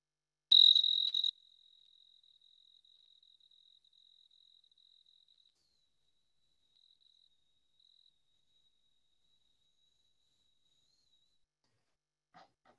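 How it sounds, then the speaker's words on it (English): Two fast-chirping tree crickets give a loud, piercing trill that then fades into a faint, steady high buzz, with silence at the end. "Here are two fast chirping tree crickets."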